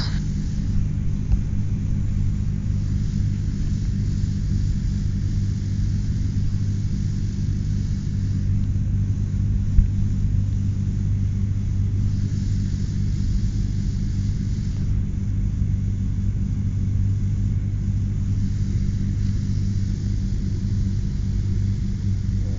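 The engine of a Cessna 172 at reduced power, about 1500 RPM, heard from inside the cockpit in flight: a steady, loud, low droning hum with a constant pitch throughout and no talking.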